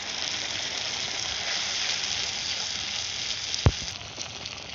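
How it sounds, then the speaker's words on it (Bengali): Spinach sizzles steadily in a hot pan already holding cardamom, cinnamon and ginger, a dense close hiss like light rain that keeps on, with one brief clatter partway through. "তো আমি পালং শাকটা দিয়ে দিলাম ঢেলে।"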